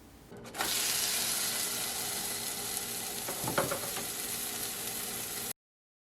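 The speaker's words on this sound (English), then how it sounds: "Then flip it and enjoy the satisfying sizzle." Steady sizzling of a sourdough pancake frying in a pan fills the clip, close and constant, with a brief scrape midway as it is flipped before it cuts off.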